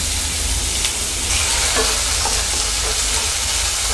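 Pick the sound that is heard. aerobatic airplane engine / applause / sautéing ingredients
sautéing ingredients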